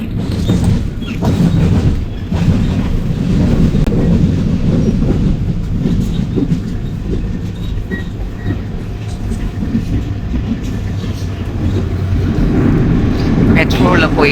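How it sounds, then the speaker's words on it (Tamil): A metro train runs along the rails in France with a loud, continuous low rumble and rattle of carriages, steady clatter throughout and people talking over the noise. "மெட்ரோல போயிட்டு இருக்கு."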